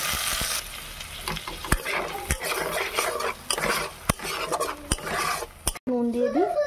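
Ground poppy seed paste sautéing in hot oil in a pan, a continuous sizzle broken by repeated sharp clinks and scrapes of a utensil against the pot; near the end the sizzle drops out and a voice is heard.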